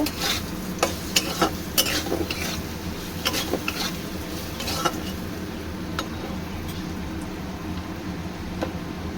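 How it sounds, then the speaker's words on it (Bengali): A spoon stirs turmeric and sugar in a pan for a hilsa and taro-stem curry, with a steady sizzle and a run of sharp utensil scrapes and clicks against the pan, close and fairly loud, no voices. "দিয়ে দেবো একটু চিনি, একটু নেড়ে ছেড়ে নেব।"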